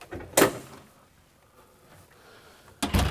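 An outswing door in a room closes with a sharp thud early on, then a second knock or latch sound after a quiet pause.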